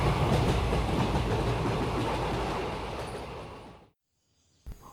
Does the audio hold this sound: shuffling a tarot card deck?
no